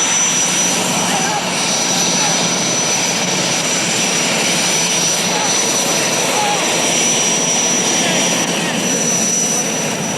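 Helicopters flying overhead at a chaotic outdoor scene, a steady broad engine and rotor roar filling the whole stretch with a high whine above it, while people shout and talk over the noise.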